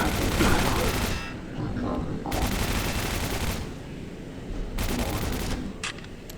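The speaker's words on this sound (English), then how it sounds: "We're in close quarters, so we're going to use the shotgun here." Shotgun blasts in the first-person shooter Quake 4 during a close-quarters fight, loud booming shots repeating every second or so amid dense game combat noise.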